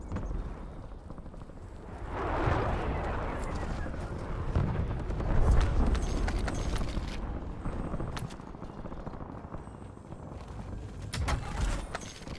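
Napalm strike explosions in a video game rumble as a broad, sustained roar that swells around the two-second mark and rolls on with booming bursts, a bit of talk mixed under the blasts.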